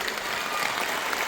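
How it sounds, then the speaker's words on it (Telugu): An audience at a music tribute programme gives a burst of loud, dense applause, a continuous wash of clapping from many hands, close and filling the room, with no speech over it. "అందరం గట్టి చప్పట్లు కొడదామా?"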